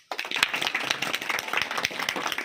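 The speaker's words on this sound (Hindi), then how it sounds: "इसलिए स्वागत तालियां बजाएं" Welcoming applause for a district brand ambassador of a girls' education campaign at a Savitribai Phule death-anniversary tribute gathering: dense, steady clapping from a crowd, fairly close, lasting throughout.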